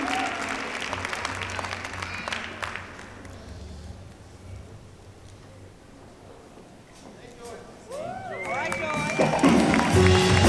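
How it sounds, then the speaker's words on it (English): A crowd applauds performers at an MLK Dream Showcase, a dense clapping wash that fades midway; later, voices and tonal sounds rise as the room grows livelier. "Give them a round of applause."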